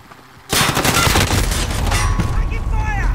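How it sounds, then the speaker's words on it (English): Gunfire erupts in the video game Call of Duty: Modern Warfare as a sudden, loud burst of rapid automatic shots with booming impacts, continuing dense and close to the end, while faint game sounds and voice cues sit beneath. "Taking fire!"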